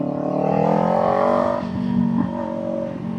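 A Kawasaki Ninja 500 motorcycle engine pulls hard in second gear on a ride, rising steadily in pitch, loud and close with wind rush and no talk.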